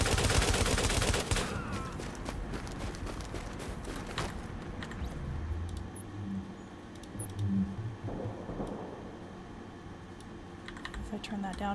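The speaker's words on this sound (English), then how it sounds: "whenever I do, it is kind of loud when I shoot" Gunshots from a video game mixed with continuous keyboard typing and mouse clicks, fairly loud and steady, with talking underneath.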